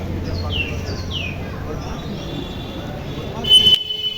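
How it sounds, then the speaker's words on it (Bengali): Birdsong plays inside a Jagadhatri Puja pandal in Chandannagar, themed on the bank of a large pond. A few quick falling chirps come early over a steady crowd murmur and low hum, followed by a brief sharp burst near the end. "ভিতরে কিন্তু প্রবেশ করেই এরকম পাখির যে সাউন্ড বা পাখির যে কলতান, সেগুলো কিন্তু আপনাদের কানে আসবে।"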